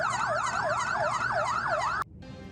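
An ambulance siren wails in a steady, looping up-and-down pattern, loud and close, then cuts off abruptly, leaving only a hiss of background noise.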